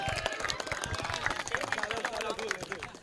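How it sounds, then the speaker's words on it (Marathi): Clapping for a team captain at a cricket league prize ceremony, a scattered crowd applauding at moderate distance with voices and babble mixed throughout. "आणि एकदा कॅप्टन साठी टाळ्या झाल्या पाहिजे"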